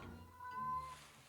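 A cat in a Minecraft-style game gives a single short, faint meow in an otherwise quiet scene.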